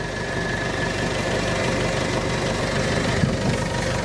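The screen case of a VMS-A variable message sign trailer being lowered: a loud, steady mechanical drone with a low hum runs unbroken throughout.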